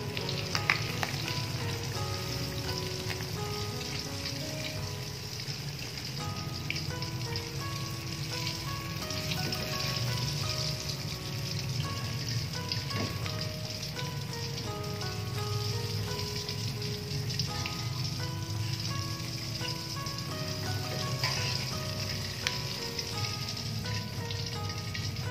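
Fish frying in hot oil in a pan for a home-style green chili fish dish gives a steady, dense sizzle throughout, with faint scraping and clinks over the crackle and no talking.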